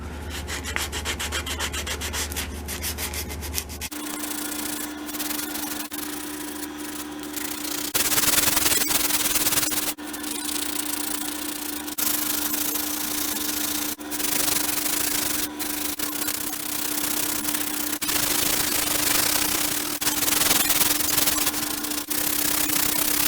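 Sandpaper rubbing back and forth over the wooden fore-end of a M1912 Norwegian Krag carbine, continuous close scraping strokes with a steady low hum underneath, no talking.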